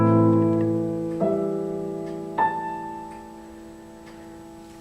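Piano plays a bar of a theme: a ringing chord followed by two more struck notes at roughly one-second intervals, each sustaining and fading, close and clear with no voice.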